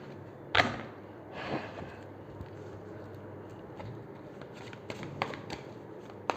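Tarot cards are shuffled by hand in quiet, soft papery bursts of riffling and sliding, with a stronger flurry near the start and small scattered taps later, and no voices.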